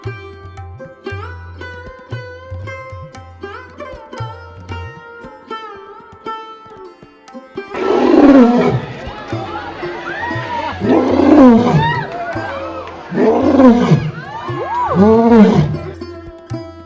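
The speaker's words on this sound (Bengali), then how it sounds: "তোমরা কোনোদিন সিংহের গর্জন শুনেছো?" A lion at Bannerghatta zoo roars several times in deep, drawn-out bursts after a stretch of quieter background sound with soft music-like tones, the roars loud and swelling in a slow repeating rhythm.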